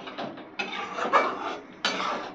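Spice paste of turmeric, cumin, ginger, garlic and chili being stirred in a pan for small fish curry, giving scraping, rubbing kitchen sounds in short uneven bursts, close and fairly quiet with no talking.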